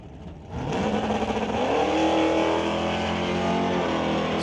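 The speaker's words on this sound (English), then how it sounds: "So Chris Stone heading down track, Stone Cold Racing. Dodge Dart, sponsored by Willowbrook Chrysler" A Dodge Dart drag race car of the Stone Cold Racing team roars down the strip at a test-and-tune event, a sustained loud engine drone that swells in after a brief quiet start and holds steady, with no talk over it.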